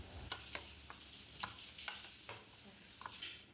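Dal rice being stirred together with ghee and salt, faint soft scraping strokes repeating every half second or so, quiet and close, with no one speaking.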